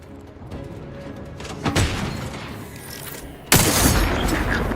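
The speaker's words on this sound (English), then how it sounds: "We don't want to get hit by that rocket." Combat in The Outer Worlds 2 video game brings scattered gunfire and a thudding rocket impact, with a sudden louder burst of explosive noise near the end over a constant background rumble.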